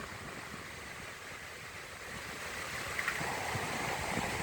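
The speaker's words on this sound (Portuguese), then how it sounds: "olha o barulho do mar" Sea waves wash steadily onto the shore in a continuous soft roar, heard from a seaside ride on a windy day, with no talk.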